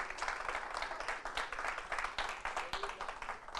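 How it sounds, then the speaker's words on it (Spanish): A church congregation applauds during a sermon, a quiet, dense patter of many hands clapping at once, steady and continuous with no voice over it. "Dale un aplauso a Dios"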